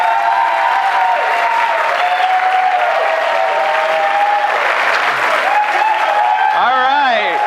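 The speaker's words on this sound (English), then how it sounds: "But you can applaud all you want right now." Loud, sustained applause and cheering from a crowd at a televised mayoral debate fills the whole stretch without letting up, with voices mixed into the roar and a brief whistle near the end.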